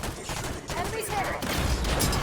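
Turret fire against Promethean enemies in Halo 5: Guardians, a short run of muffled rapid shots blended with other battle noise.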